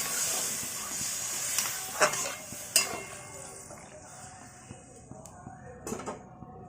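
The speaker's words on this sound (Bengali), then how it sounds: "এবারে আমরা এর মধ্যে জল দিয়ে দিলাম ভালো করে মশলা কষানো হয়ে গিয়েছে" Water poured into spice masala already cooked down in a pan for a Bengali cucumber curry with prawns, giving a steady sizzling hiss with a few clinks of utensil against the pan. No talk.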